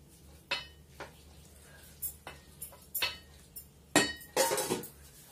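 A spoon clinks and scrapes against a bowl as raita is mixed, making about eight separate sharp metallic knocks, with a quick cluster of clatters near the end and near-silence between them.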